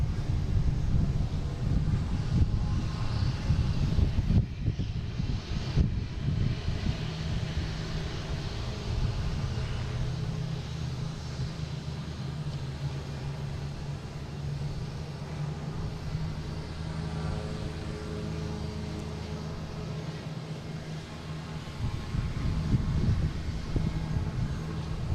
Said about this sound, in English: Here's Delta heading to Salt Lake City in A321 Neo